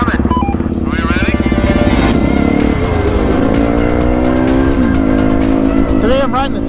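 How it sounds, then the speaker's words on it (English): A 2018 Yamaha WR250F dirt bike engine runs with a dense, buzzing drone that rises and falls in pitch as it revs, loud and close, with a voice speaking over it. "Today I'm riding the 2018 Yamaha WR250F."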